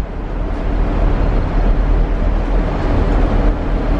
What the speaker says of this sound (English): I'm on a train. It's very loud.